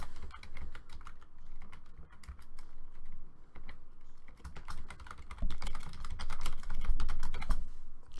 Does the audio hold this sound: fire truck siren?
no